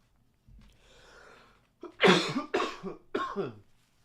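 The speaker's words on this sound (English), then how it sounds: "Just when I start to feel better is when I start having coughing fits again." A man with a lingering illness breaks into a coughing fit: a soft breathy rasp first, then three harsh bursts of close, loud coughs in quick clusters.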